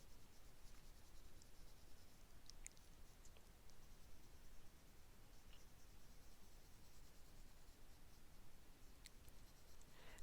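Side of a colored pencil lead rubbed lightly across paper, a soft steady scratchy rasp continuing without pause, close up and quiet with no talking.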